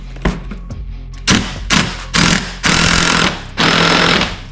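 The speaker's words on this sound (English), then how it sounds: "then we'll hit the nut with the impact gun and see what happens." An impact gun hammers at a stubborn nut on the front bumper of a Lexus SC300/400, firing in several loud, close rattling bursts that grow longer, separated by brief pauses.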